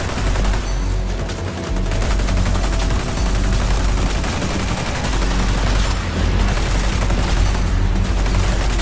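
Continuous rapid gunfire from the L86 rifle in the shooter XDefiant, a dense loud fusillade of shots that runs almost the whole time with no talk over it.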